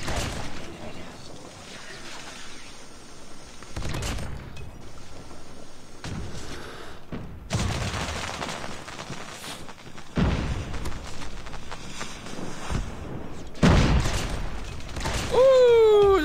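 Gunfire from the R9 shotgun in COD Mobile comes as several heavy booming blasts spread across a busy stretch of game noise with mechanical clatter.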